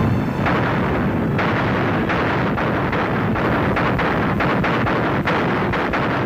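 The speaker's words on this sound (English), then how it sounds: "a massive artillery barrage against German defensive lines just a few miles ahead" A massive Soviet artillery barrage fires on Berlin in 1945, a dense, continuous roar of overlapping blasts and booms, loud and close, with wind buffeting the microphone.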